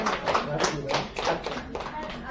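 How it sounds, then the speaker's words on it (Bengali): An audience at an indoor health workshop claps hands in a short burst of brisk applause, with speech overlapping the clapping. "হাততালি বাজান যে আপনার কোনো প্রশ্ন নেই।"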